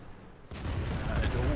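A tank gun fires in World of Tanks during a tournament match, a sudden heavy boom rising out of quieter game noise and leaving a rumbling tail that fills the rest of the moment.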